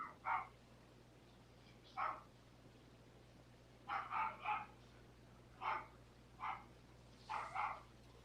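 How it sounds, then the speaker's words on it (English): A dog barks at people cutting grass, sharp single and doubled barks in irregular bursts, somewhat distant and muffled, over a faint steady low hum. "he's barking at the people cutting grass"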